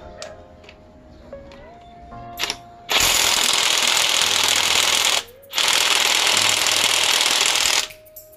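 A Mustool cordless impact wrench hammers against a very tight, corroded bolt in two loud, sustained rattling bursts, each lasting a few seconds, separated by a brief pause and preceded by quieter motor whirring.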